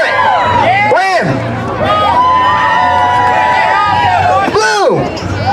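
A packed grandstand crowd at a pig race at the Salem Fair in Virginia cheers and shouts in a continuous loud roar, with an amplified announcer voice and whistling sweeps cutting in over the din.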